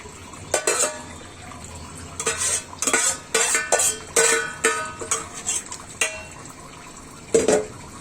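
A hot pan takes a poured raw mango sour mixture, loud bursts of sizzling and splashing in uneven spurts with clattering of utensils against the pan.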